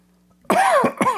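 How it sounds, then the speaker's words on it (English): A few harsh coughs in quick succession, loud and close to the microphone. "I could not mute the microphone before I cough"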